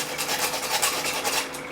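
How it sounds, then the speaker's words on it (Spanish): Sandpaper rubs briskly back and forth over the electrical connections of an electric waffle iron, a steady close-up rasping scrape with a quick repetitive rhythm and no talking. "Acá voy a lijar las conexiones."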